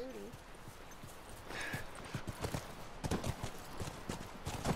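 Horses' hooves clip-clop at a walking pace in the game The Last of Us, a close, uneven run of hoof strikes on the ground, joined by a brief whinny near the start.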